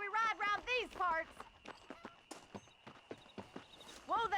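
A horse in Red Dead Redemption moves with rhythmic hoofbeats and clip-clops in short bursts, mixed with a whinny-like call at the start and end, close and fairly clear.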